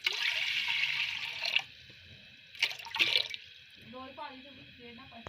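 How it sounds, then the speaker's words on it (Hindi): Water poured into a cooking pot in a home kitchen, a loud rushing gush that stops and then returns in a short second burst. A person speaks near the end. "और अब हम डालेंगे एक पतीली में पानी"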